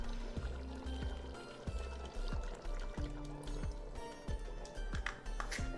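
A can of sugar beans in brine tipped into a cooking pot for curry with trotters: a continuous wet pour and slosh with repeated soft thuds as beans drop in, fairly quiet and with no voice over it.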